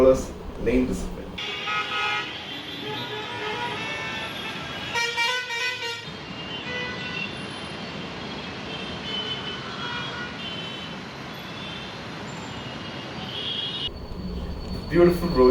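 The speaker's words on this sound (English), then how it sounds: "Next, traffic that follows lane discipline." Dense Indian road traffic with buses, cars and trucks, car horns honking repeatedly throughout over a steady engine rumble, busy and close, with a few short toots standing out.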